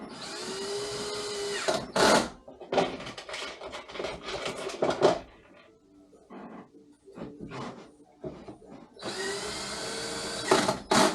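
A power drill whirs in several short bursts and longer runs, tightening screws on a Floatwheel board, pausing between screws, with faint clatter and handling noises in the gaps.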